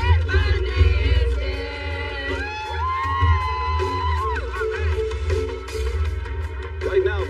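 Crowd gathered outside a prison on the night of Ted Bundy's execution, cheering and singing; a loud, continuous mass of voices with rising shouts and chant-like sustained tones throughout.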